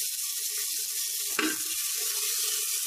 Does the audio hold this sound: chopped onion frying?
yes